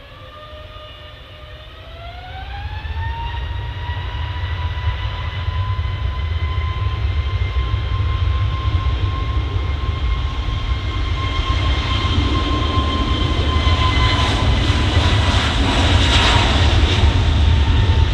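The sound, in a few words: EasyJet Airbus A321neo taking off from runway 23 left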